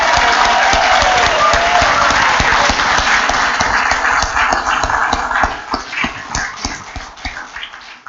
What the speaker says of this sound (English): Let's give one last collective round of applause to the group.